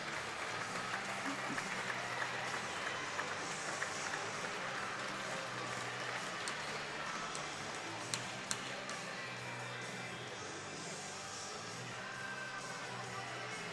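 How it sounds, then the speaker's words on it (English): Sporting fans in an indoor professional box lacrosse arena applaud steadily as an injured player is helped off. The clapping is a dense, continuous wash at moderate distance, with crowd murmur and a commentator talking over it. "Gets a nice round of applause from the very sporting fans here."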